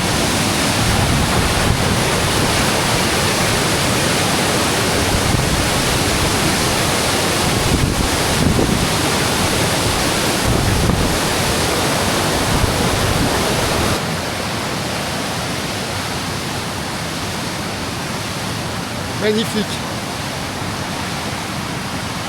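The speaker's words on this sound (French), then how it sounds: "qu'est-ce que c'est beau une cascade en crue!" A flooded waterfall in the Vésubie valley roars as a loud, continuous rush of falling water, with wind buffeting the microphone. A man briefly exclaims over the noise.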